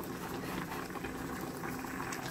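Fish soup seasoned with pepper and hot chili simmers in a pot, a dense, steady bubbling and seething that stays close and even throughout with no voices.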